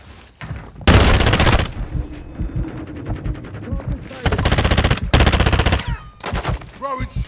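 Call of Duty gunfire, several loud sustained automatic bursts separated by quieter gaps, close and sharp, with someone talking between and under the volleys.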